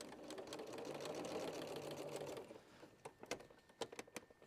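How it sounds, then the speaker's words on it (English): A sewing machine stitches along the edge of a zip, running steadily for about two and a half seconds before stopping, followed by a few quieter clicks and taps of handling. "So I'm just sewing on the edge."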